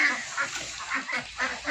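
A group of colorful farm ducks offered for sale quack in short, repeated bursts, several close calls overlapping in a quick irregular rhythm with no talking.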